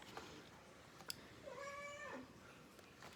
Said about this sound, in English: My cat Maverick has joined us today for the showcase